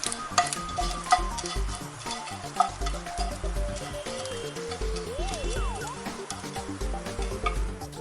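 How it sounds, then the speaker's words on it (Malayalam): Grated coconut is roasted in an iron pan on a stove, giving a continuous sizzle with rhythmic scraping strokes of a spoon against the metal. The stirring stays close and fairly loud throughout. "ഒരു ഇരുമ്പ് ചട്ടി അടുപ്പത്ത് വെച്ചിട്ട് തേങ്ങ ഒന്ന് വറുത്തെടുക്കണം."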